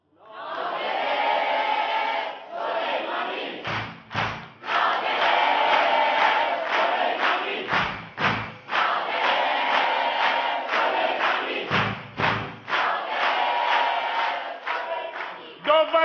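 On the Khandevaneh comedy TV show, a studio audience applauds and cheers loudly and continuously for about sixteen seconds, with brief dips and quick surges in the clapping.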